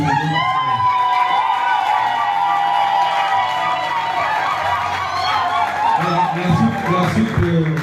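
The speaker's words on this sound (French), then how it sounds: "Acclamez pour nous" A crowd at a church consecration ceremony for a group's 15th anniversary cheers and acclaims steadily throughout, a dense, loud wash of voices with shouts and whoops rising over it.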